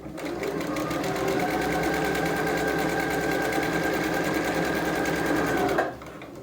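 A sewing machine stitching a fabric face mask runs steadily and loudly for about six seconds, with a fast even mechanical whir that stops abruptly near the end.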